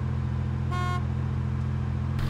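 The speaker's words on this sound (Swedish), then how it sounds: "Tuta inte fan." A car horn honks once in Arma 2 DayZ, a short harmonic blast sounding over a steady, loud low engine drone, with a faint second toot beginning at the very end.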